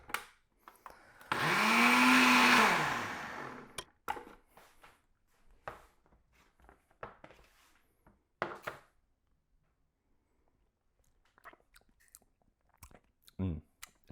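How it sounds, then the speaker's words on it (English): A blender whirs loudly for about three seconds while blending ranch dressing, its motor pitch dipping then rising, followed by chewing, crunching and scattered kitchen clatter. "Put this on the blender."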